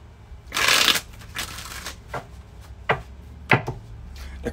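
A deck of tarot cards gets a brisk close-up shuffle, opening with a loud riffling burst followed by several sharp, separate card slaps and flicks spaced out over the next few seconds.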